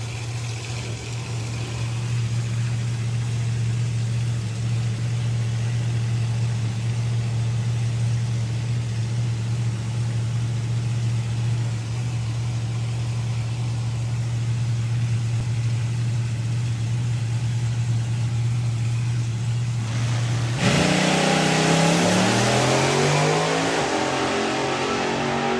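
Alan Schofield's Scud dragster at a drag race holds a steady, droning engine tone for about twenty seconds, then breaks into a louder burst of rising revs near the end.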